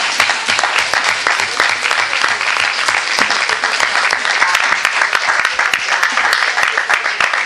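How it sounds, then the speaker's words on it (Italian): People attending a municipal council session in Rome applaud together, a sustained, fairly loud patter of many hands clapping with sharp individual claps standing out, and faint talk mixed in. "Non riusciamo a evitare gli applausi"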